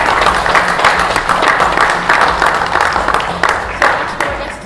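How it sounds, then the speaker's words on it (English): An audience breaks into applause, a dense steady wash of clapping hands that fills the room and holds strong before tapering slightly at the end. "spectacular entrance deserves a big round of applause"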